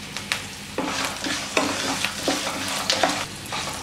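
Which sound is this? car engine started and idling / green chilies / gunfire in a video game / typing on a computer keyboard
green chilies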